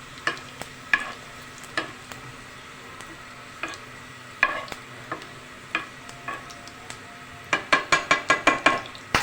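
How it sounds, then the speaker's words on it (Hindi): Spices and garlic tempering in hot oil for lauki raita, a steady sizzle under repeated metal spoon clinks and stirring taps against the pan, closing with a quick run of clatters. "हमने ये सब डाल दिया इसमें भगार का सामान। जब लहसुन अच्छे से हमारे ब्राउन होने लगेंगे,"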